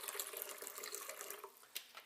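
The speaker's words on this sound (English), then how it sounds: "let's start by pouring in 2 cups or around half a liter of water." Plain water, about two cups, pours steadily into a blender jar for a green smoothie, a continuous close splashing trickle with small splashes and drips and no voices.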